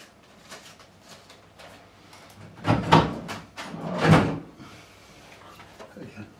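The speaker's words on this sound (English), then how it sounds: "Put these back in the bag, get these back in the drawer." A workshop drawer slides open or shut twice in quick succession, fairly near and moderately loud, after guitar fret polishing with a few quiet handling sounds around it.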